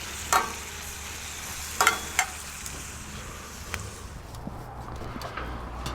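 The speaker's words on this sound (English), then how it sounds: "Going to just let them start to sear off here." Tomahawk steaks sizzle steadily as they sear on a hot Monument Mesa 400 gas grill, a constant close frying hiss broken by a few sharp clanks and taps of tongs.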